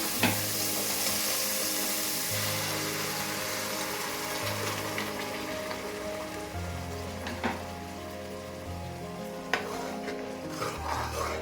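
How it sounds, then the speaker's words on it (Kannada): Ground onion masala fries in a pan as part of a mutton sambar, a continuous close sizzle with spoon stirring and a couple of sharp scrapes, no voices. "ಇದೆಲ್ಲ ನೀಟಾಗಿ ಹಸಿಸ್ಮೆಲ್ಲೆಲ್ಲ ಹೋಗೋವರೆಗೂ ಚೆನ್ನಾಗಿ ಫ್ರೈ ಮಾಡ್ಕೋಬೇಕು"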